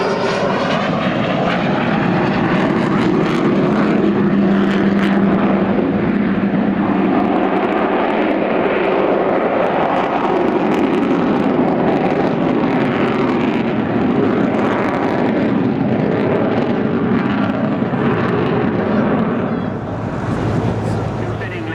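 An Avro Lancaster bomber flying along the coast at an airshow, a continuous loud droning of piston engines with wind noise, sustained throughout, with a commentator talking over it.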